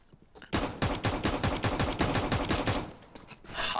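Rapid automatic gunfire from a Counter-Strike: Global Offensive match, a dense, steady burst of close, loud shots lasting a few seconds before cutting off into quieter game ambience.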